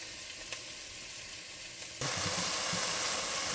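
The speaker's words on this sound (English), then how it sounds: "once you saute to your liking" A seafood casserole mixture sautés in a pan. A faint hiss runs for about two seconds, then a loud, close sizzle jumps in abruptly and holds steady to the end, with no voices.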